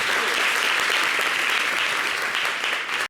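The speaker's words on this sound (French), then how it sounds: "Merci de l'applaudir." Studio audience applauding on an Ivorian weekend TV variety show, a dense, steady wash of clapping that stays loud for the whole stretch and cuts off abruptly at the end.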